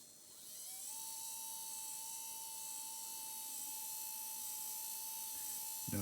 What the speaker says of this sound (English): We've got all of these motors working as he controls them.